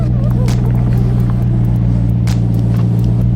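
Chevy Corvette Grand Sport engine idling in neutral with about 6000 miles on it, a deep, steady low rumble up close, with faint clicks and cabin noise on top.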